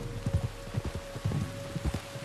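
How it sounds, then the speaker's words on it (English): Rain patters steadily on surfaces in the video game Red Dead Redemption 2, with soft irregular thuds that sound like horse hooves and a faint steady tone underneath. "You were right about the damn rain."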